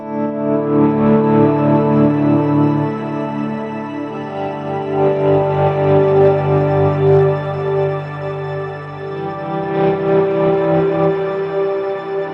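Electric guitar swells played through a Line 6 HX Stomp with reduced gain, notes fading in slowly and sustaining in lush, effect-laden layers, loud and steady with no talk.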